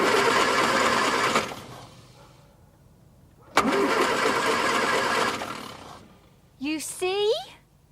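A broken-down car engine cranks twice in long whirring bursts without catching, with a silent gap between them, followed by a brief spoken voice at the end.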